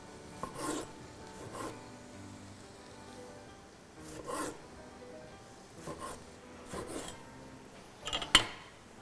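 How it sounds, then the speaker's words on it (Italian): Tomatoes are cut into quarters for pasta with anchovies and eggplant: faint, soft knife strokes come at intervals of about two seconds against a quiet kitchen background, with a slightly sharper cut near the end. "Taglio i pomodori in 4."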